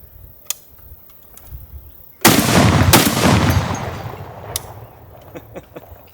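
A Barrett M82 rifle fired in real life: two very loud, close booming shots about a second apart, each followed by a long rolling echo that fades over a few seconds, with faint ticks around them.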